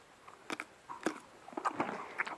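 A pony chews steadily during a stretching exercise, giving a close series of crisp biting and crunching sounds at an uneven rhythm, with no voices.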